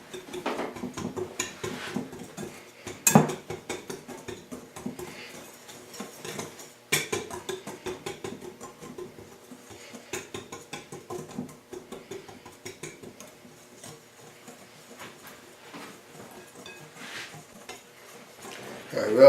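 Baking powder and sugar are stirred together in a bowl for homemade biscuits, with scattered light scraping and clinking of utensil against dish and a few sharper knocks standing out between quieter stretches.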